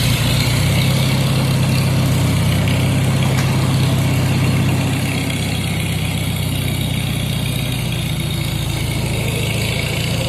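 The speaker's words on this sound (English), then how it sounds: "I'm sitting in the seat of my little tractor here" A small tractor engine idles steadily with the driver seated, a continuous low rumble close by with no pauses or talking.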